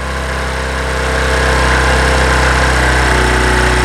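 A Bajaj Discover 100 motorcycle engine idles at high RPM during carburetor adjustment, a loud, constant close-up drone with rapid pulsing that rises slightly and holds steady.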